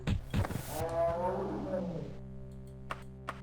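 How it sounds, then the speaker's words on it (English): A wereboar roars in Elder Scrolls II Daggerfall, a deep growling bellow with a rumbling tail that fades over about two seconds, followed by faint clicks in a quiet dungeon. "Oh, it's the sound of the wereboars."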